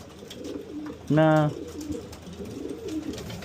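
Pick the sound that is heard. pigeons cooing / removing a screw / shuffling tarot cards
pigeons cooing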